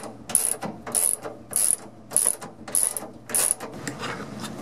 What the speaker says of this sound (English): I got a 11/16 socket for the nut and a 5/8 inch wrench for the bolt. And this strap is going tight.